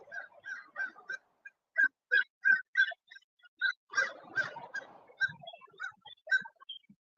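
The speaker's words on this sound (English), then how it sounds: "All these birds are birding." Birds call outdoors in short honking, gobbling bursts like geese or turkeys, repeated in quick clusters with a brief flurry of overlapping calls midway, moderately faint and without talk.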